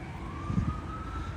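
An emergency vehicle siren wails along a New York street beside Central Park West, a single steady rising tone heard at a moderate distance over low street rumble.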